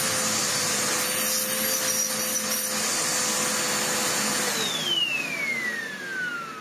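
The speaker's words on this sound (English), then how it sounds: "That's when the little brush roll tries its best to scrub at the carpet." A Vax Essentials bagless upright vacuum cleaner runs on carpet with a steady, loud motor whine and brush-roll hum, ending in a falling pitch sweep as the motor note changes, with no talking.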